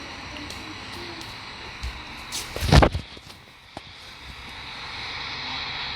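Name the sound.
airplane landing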